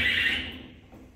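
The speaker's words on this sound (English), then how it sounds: "the alarm went off" A storage unit alarm sounds a steady, piercing electronic tone that fades away within about a second, heard alone and fairly close.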